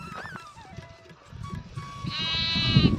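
Sheep bleating while feeding on dry stalks, with a couple of nearby wavering bleats, one long and loud near the end, over rustling and munching sounds.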